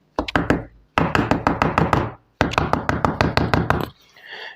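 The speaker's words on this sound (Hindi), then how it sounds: "किवाड़ों की तेज खटखटाहट सुनकर वे दोनों एकदम चौंक पड़े।" Sharp, loud knocks on a wooden door come in three rapid volleys, each a fast string of hard raps close at hand, followed by a brief fading sound.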